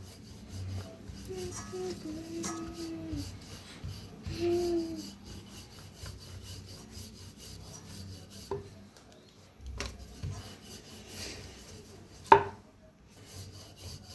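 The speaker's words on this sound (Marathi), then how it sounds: "तर उचलून थोडंसं पीठ म्हणजे खाली चिटकुनी म्हणून आता लाटून घेऊया." A rolling pin flattens stuffed paneer paratha dough on a board, with quiet intermittent rubbing and rolling strokes and one sharp knock near the end.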